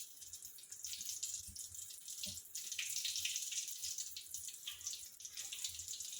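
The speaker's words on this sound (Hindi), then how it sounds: "मैं बैटर में कैप्सिकम को डुबो के फ्राई करने के लिए" Batter-coated capsicum fries in a pan of oil for stuffed capsicum pakoras, giving an even, continuous close sizzle with faint crackles throughout and no voices.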